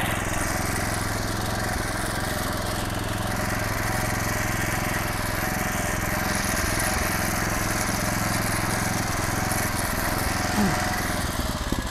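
A small single-cylinder engine on a Kaskad walk-behind tractor runs steadily at idle, a constant chugging drone close by with no pauses.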